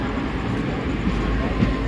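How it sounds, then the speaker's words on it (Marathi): A Mumbai local train pulls out of Thane station with a steady, loud low rumble and rolling noise that fills the short span without letting up. "ट्रेन निघाली आपली ठाणा स्टेशनवरून."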